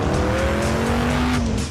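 A Lamborghini Murcielago engine roars loud and close, its pitch sliding steadily as it shifts gears, with a hint of tire squeal.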